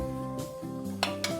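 A salad with chanterelle mushrooms is stirred in a bowl, producing light clinks and scrapes of a utensil against the bowl, close and fairly quiet with a couple of sharper knocks near the end.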